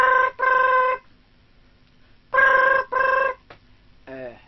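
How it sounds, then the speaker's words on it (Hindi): A telephone bell rings in two loud double bursts separated by a pause, each burst a bright sustained trill, followed by a brief click and the start of a faint voice. "तो सबसे पहले टेलीफोन की बेल बजनी स्टार्ट होगी"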